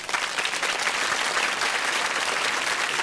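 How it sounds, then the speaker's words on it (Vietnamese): Loud, dense applause from a television studio audience after a singer's bolero performance on a singing competition show, sustained steadily throughout without a break. "Cô xin được chính tay cô vỗ tay những cái tiếng vỗ tay lớn nhất cho con trong phần trình diễn này"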